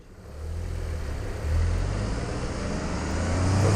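A Toyota GR Yaris engine builds under acceleration, a low rumbling growl with road noise swelling steadily louder from inside the car.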